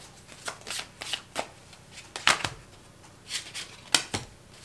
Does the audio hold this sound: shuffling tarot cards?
yes